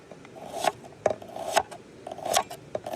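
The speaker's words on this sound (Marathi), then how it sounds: "आता कापून घेऊ कांदा" A knife slices a peeled onion lengthwise while cooking outdoors by a river, making five or so crisp, rasping cuts at an uneven pace, close and moderately loud.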